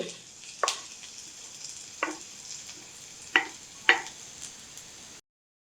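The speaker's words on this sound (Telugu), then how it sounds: "ఆయిల్ బాగా హీట్ ఎక్కింది. ఇప్పుడు ఆనియన్స్, ఎల్లుల్లిపాయలు అన్నీ వేసుకుందాం." Chopped garlic frying in hot oil for bachelor-style Apollo chicken, a steady close sizzle broken by four sharp spoon taps against the pan, then it cuts to silence.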